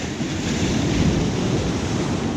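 Ocean surf breaking near an angler fishing from the shore, a loud, steady roaring wash of water close by, mixed with wind buffeting the microphone.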